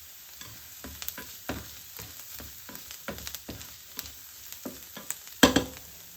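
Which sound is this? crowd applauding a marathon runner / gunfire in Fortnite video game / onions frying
onions frying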